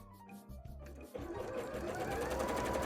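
A sewing machine stitches a bra: a soft start gives way to a continuous, close, fast mechanical whirr that steadies and holds to the end.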